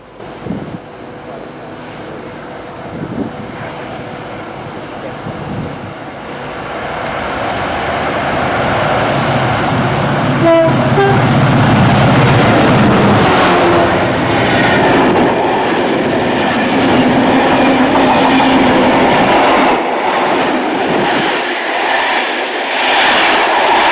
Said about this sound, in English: We're waiting for 6K50, which is a GBOF freight train.